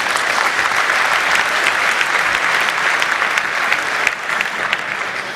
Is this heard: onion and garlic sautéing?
no